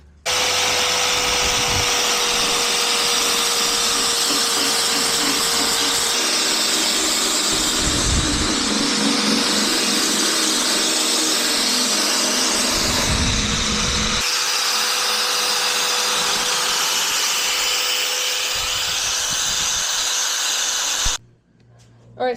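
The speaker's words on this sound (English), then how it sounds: "I want to sand the piece of wood on the high spots" A power sander runs loud and constant for about twenty seconds, grinding down high spots on a wooden bulkhead piece, its whine shifting in pitch as pressure changes before it cuts off abruptly near the end.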